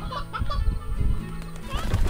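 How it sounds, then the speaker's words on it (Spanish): Chickens in the video game Slime Rancher clucking in short, irregular bursts, close and moderately loud over a low game background hum. "Tenemos pollitos."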